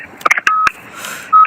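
A phone dials out with a quick series of short touch-tone beeps followed by a longer steady tone, close and clear with no talking.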